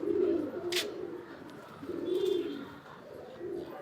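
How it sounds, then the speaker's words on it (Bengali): A pigeon, a male loft bird, cooing close by in two low rolling phrases with a brief pause between, plus a quick flutter or rustle early on. "এটা একটা ছুটি নর পায়রা"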